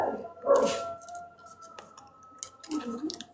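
Several poodles bark and yip indoors at someone arriving at the front door, a few sharp bursts near the start and again toward the end, with a steady electronic tone humming underneath.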